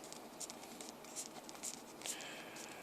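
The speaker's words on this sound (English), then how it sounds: "So now I write my new equation." A pen or pencil writing an equation by hand on paper, a quiet, close scratching with a few short strokes and taps in an otherwise hushed room.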